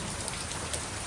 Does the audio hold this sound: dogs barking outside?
no